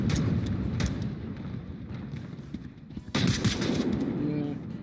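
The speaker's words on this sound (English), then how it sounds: "Man, I love that bullet hit effect." Automatic gunfire and sharp bullet impacts in the VR shooter Onward, loud bursts filling the scene with a renewed heavy volley near the end, voices shouting over the action.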